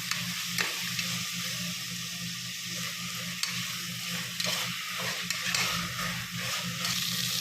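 Steady sizzling of four chopped tomatoes frying in a pan, with repeated scraping and stirring sounds throughout.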